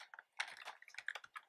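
Quick keystrokes on a computer keyboard, faint and close, a short run of taps with brief gaps between them.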